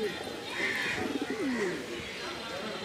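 Soft, low pigeon coos ripple through the clip at a Bangladeshi market, with a faint bird chirp and light background voices underneath.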